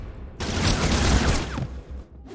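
Goons fire a burst of gunfire at Batman in an old video game, a loud, dense rattle of shots that starts abruptly, holds for about a second and then fades out.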